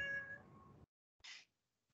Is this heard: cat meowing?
yes